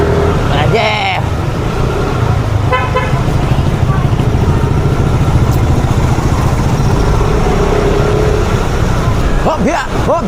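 A motorcycle being ridden through traffic, a constant loud roar of engine and wind noise with a couple of brief horn toots from nearby vehicles mixed in.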